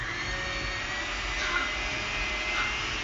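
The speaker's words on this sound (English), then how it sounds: "get my mixer and cream up this butter and shorten it" An electric hand mixer whirring steadily in a pan while creaming butter and shortening for sweet dough, a continuous loud motor drone without breaks.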